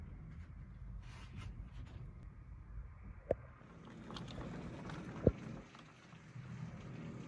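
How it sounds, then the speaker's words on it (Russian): Roaring, gusty hurricane-force wind buffets the microphone in a continuous broadband rush with the hiss of heavy rain in Carinthia, broken by two sharp knocks. "Вот такой ураганный ветер"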